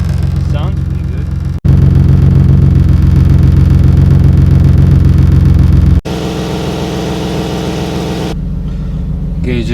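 A Nissan 370Z sits idling as it warms up, its steady low engine rumble running continuously through the whole stretch, loud and close, with brief cuts and a change in tone partway; no one speaks over it.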